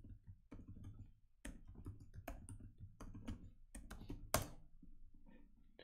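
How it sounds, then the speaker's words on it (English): A password is typed on a computer keyboard: quiet, irregular clusters of close keystroke clicks with brief pauses between them, in an otherwise silent room. "I'm going to type my password"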